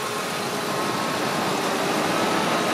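A 2000 Ford Expedition's 5.4-liter Triton engine runs at a steady, even idle, a close, constant broadband hum with no misfire or speech.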